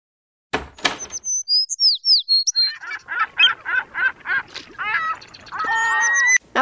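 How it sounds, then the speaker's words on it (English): Birds chirp and tweet in quick repeated bursts, clear and close, with brief rustling at the start and a busy layered chorus building toward the end. "Then we increase the bird sound and when the door opens."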